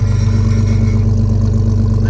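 An idling Jeep Cherokee XJ engine with about 300,000 miles runs steadily with a low, continuous rumble and a faint metallic rattle from a loose exhaust clamp riding on top, loud and close, with no voices.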